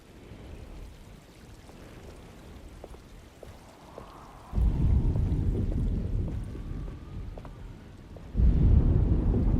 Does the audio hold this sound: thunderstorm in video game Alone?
yes